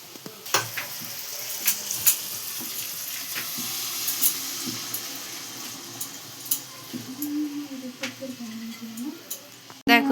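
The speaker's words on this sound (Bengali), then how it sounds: "পেঁয়াজ ভাজছি" Onions frying in a pan for tadka, a steady sizzle running throughout with occasional stirring clinks and water-like splashes, moderately close, with a brief voice and a hum near the end.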